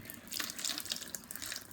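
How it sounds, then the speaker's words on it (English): Hot water is poured from a cup onto a compressed bonsai soil disc, producing a steady, close splashing trickle that runs continuously and alone for under two seconds. "Pour half a cup of the hot water directly on the soil disc to soften it."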